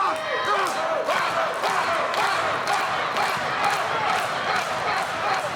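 Wrestling arena crowd of about a thousand fans in New Zealand, roaring, chanting and shouting continuously, with thumps and a commentator talking over the din.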